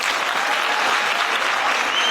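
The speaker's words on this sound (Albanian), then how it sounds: "Le ta nisim me këto duartrokitje" An audience at a Women's Day celebration for mothers in Mirdita applauds, with dense, sustained clapping that is loud and close and holds steady throughout.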